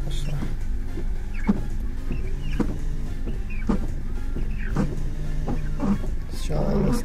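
An old VAZ 2106 windshield washer and worn original wipers run in a repeating back-and-forth cycle, each sweep giving a scraping squeak over a steady motor hum, with voices talking quietly.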